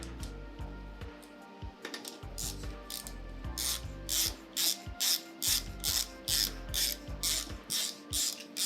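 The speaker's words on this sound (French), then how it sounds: "je vais prendre une douille longue. Hop, avec une grosse clé" A ratchet wrench with a long socket clicks steadily while tightening on a Nissan 350Z, close and crisp, the strokes falling into an even rhythm of about two per second.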